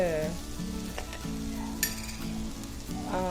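Vegetables for sambar with okra sizzle and are stirred in a pan after pepper and cumin powder go in, a steady close frying hiss with light scrapes and a single sharp clink.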